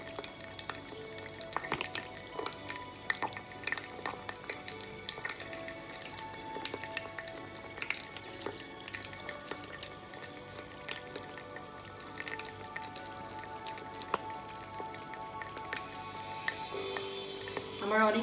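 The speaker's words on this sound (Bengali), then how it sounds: "তো চলুন আমরা এখন ভেজে ফেলি। আমি ডুবো তেলে দুটো দুটো করে" Cabbage pakoras deep-fry two at a time in oil in a small wok. The sizzle is steady and moderately quiet, broken by scattered pops and drips.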